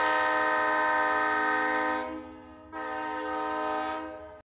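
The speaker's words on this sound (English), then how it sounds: "Train." Train horn blasts twice, a loud, sustained harmonic tone with a brief dip between the two long blows.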